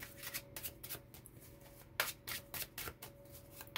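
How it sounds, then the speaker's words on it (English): Tarot deck with linen-finish cardstock being shuffled, a series of crisp riffling bursts and soft slaps repeating in quick rhythm, close and clear with no talking. "I'm going to shuffle it, guys. I'm going to shuffle in the ones I've already flipped through, too."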